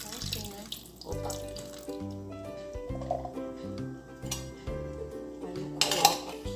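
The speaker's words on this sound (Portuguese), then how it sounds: "com a latinha de seleta, eu escorro assim, ó" Liquid being drained from a can of mixed vegetables into a kitchen sink, with running water, clinking dishes and metal over a steady background of music.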